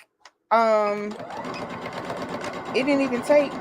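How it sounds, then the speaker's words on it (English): A sewing machine stitches a quilt block, a loud, close mechanical whir that starts abruptly and runs steadily while someone talks over it. "I'm going to go ahead and we're going to sew this last one"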